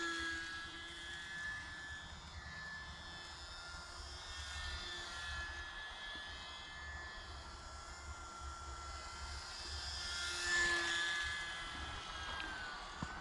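An E-Flite UMX Carbon Cub SS radio-controlled plane flying without landing gear, its small electric motor giving a steady thin whine that swells and fades as it passes, louder near the end, heard alone outdoors.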